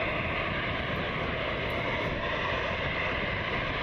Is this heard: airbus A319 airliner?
yes